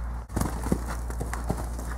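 Horse hooves clip-clop in a steady, fairly close rhythm, several soft thuds spread across the moment over a constant low background hum.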